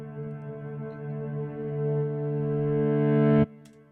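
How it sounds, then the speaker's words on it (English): A reversed piano note slowly swelling louder, with a smeared, backward-sounding attack that builds before snapping off suddenly, leaving a short fading tail. "piano note that rang out, and then I flipped that as well to make it reverse"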